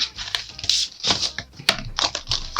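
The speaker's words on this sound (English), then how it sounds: "So I'm going to start off by stamping my flower stamp down." A rubber flower stamp pressed down onto card while making a birthday card: a quick run of sharp, close clacks and taps of uneven rhythm.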